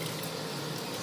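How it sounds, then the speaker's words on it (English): Water boiling in a pot before rice is added, a steady bubbling wash with no clear breaks, fairly quiet and close. "be careful when you're adding the rice, because the water is boiling here"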